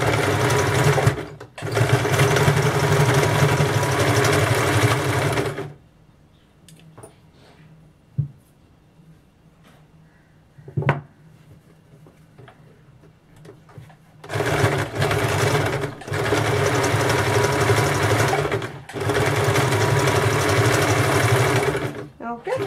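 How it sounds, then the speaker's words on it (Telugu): A sewing machine stitches a rope strip onto a blouse in loud, steady bursts at the start and again near the end, with a quieter gap between them broken by a few small knocks. "జాగ్రత్తగా పెట్టుకొని ఈ తాడు పట్టిని ఇలా నీట్గా కుట్టుకోండి"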